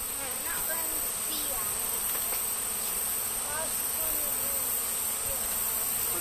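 Honeybees buzzing at an open beehive being smoked, a dense loud steady drone with individual bees whining past nearby.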